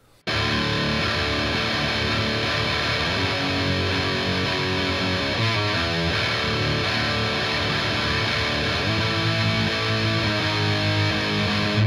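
Electric guitar playing the chorus of a song, a dense, sustained wash of lightly distorted chords that rings loud and continuous with no talking over it.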